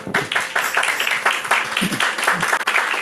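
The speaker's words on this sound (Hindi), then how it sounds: "एक बार जोर से खुदा के लिए ताली बजाइए।" A church congregation at a Hindi Christian service claps loudly together, a dense, fairly close burst of many hands sustained for about three seconds with some voices mixed in.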